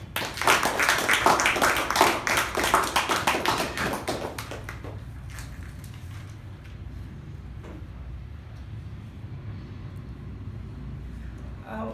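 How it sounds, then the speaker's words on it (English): Audience applause for Toastmaster Vijay at a Toastmasters club meeting: dense, loud clapping for about four seconds that thins and fades into a quiet room. "So a big round of applause to Toastmaster Vijay"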